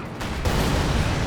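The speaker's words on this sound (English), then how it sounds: "Oh, that was an explosion right there." Explosion in Company of Heroes 2 during a 1v1 match: a dense, loud rumbling blast filling the whole brief moment, with no talk.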